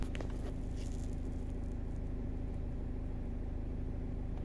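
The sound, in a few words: VW Audi 2.0 TDI diesel car engine starting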